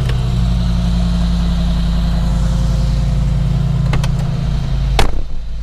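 A rental car's engine idles steadily in a parking garage beneath the Burj Khalifa in Dubai, a low continuous hum that runs throughout, with a couple of brief knocks near the end.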